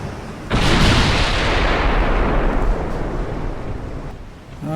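Heavy naval gunfire from the battleship USS Pennsylvania shelling a heavy cruiser in a naval warfare game, one loud booming salvo that rolls and rumbles on for several seconds, with no voices.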